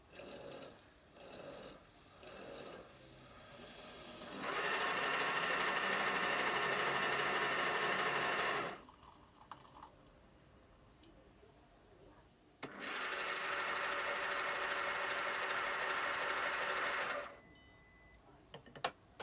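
An Arzum OKKA Turkish coffee machine runs its cleaning cycle, a loud steady pumping hum lasting about four seconds, pausing, then running again for a similar stretch, after a few short clicks and thumps at the start.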